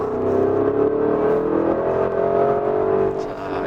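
A Porsche Cayenne Turbo GT with a 650-horsepower V8 accelerates in normal drive mode, its engine a loud, steady drone with a gently rising pitch heard from inside the cabin.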